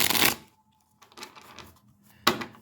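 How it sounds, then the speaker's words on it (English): A deck of tarot cards is shuffled nearby in short riffling bursts, a quick rustle, a pause, a softer run of shuffling, then another sharp riffle. "Let's do a shuffle."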